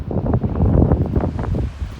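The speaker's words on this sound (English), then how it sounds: "you can see the waves are coming from both sides onto this little spit of sand here" Waves wash onto a narrow sand spit from both sides on a windy afternoon at St Ninian's Island, a steady rumbling surge mixed with wind buffeting the microphone.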